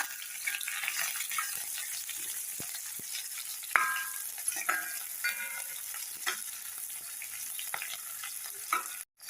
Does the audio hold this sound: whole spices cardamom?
yes